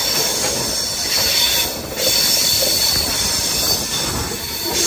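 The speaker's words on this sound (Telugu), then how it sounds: "ఈ కొండ నుంచి ఆ కొండ మీదకి వెళ్తుంది ట్రైన్" A passenger train with Visakhapatnam coaches runs along a curving track between hills near a tunnel, a loud steady rumble of wheels with a high continuous squeal from the rails, close by and without talk.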